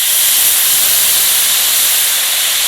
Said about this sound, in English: I'm just going to deglaze my pan